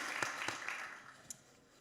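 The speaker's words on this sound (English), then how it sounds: "And then, yes, clap for her." Brief applause from an audience at a women's leadership conversation event, a short burst of scattered claps that thins out quickly, fairly quiet and distant.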